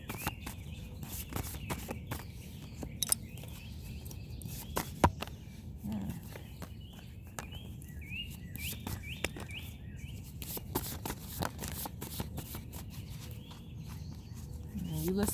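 Birds sing faintly outdoors, their short chirps and trills rising over a quiet background with soft tapping steps nearby.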